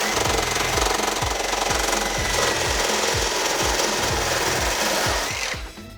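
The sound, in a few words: power tool blade cutting catalytic converter anti-theft guard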